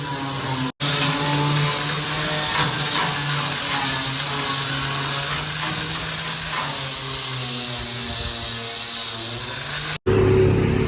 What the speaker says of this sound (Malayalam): അശോക് ലൈലൻഡിൻ്റെ ക്യാപ്റ്റൻ എന്ന് പറഞ്ഞ വണ്ടിയാണ് ഇത്